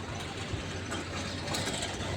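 A tractor levelling ground in a village gives off a low, steady engine drone at moderate distance, faint and continuous with no talk over it.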